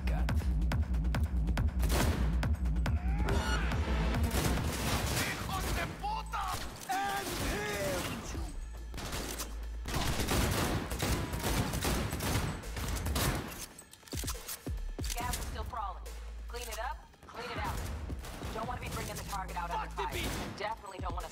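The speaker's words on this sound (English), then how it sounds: "Yeah, this is gonna be a shootout." Rapid exchanges of gunfire in a shootout in Cyberpunk 2077, with dense bursts of shots and mechanical clatter running nearly continuously and loudly throughout, under occasional game voices.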